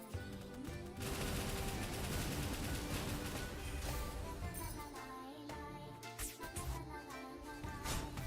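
Gunfire in the video game Ender Magnolia: Bloom In The Mist, with dense rapid shots over loud game music and effects that thin out into scattered sharp bursts toward the end.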